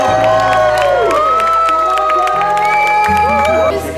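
A film crew celebrates a picture wrap with lively cheering, whoops and applause from a close crowd, the shouts rising and falling throughout with voices mixed in.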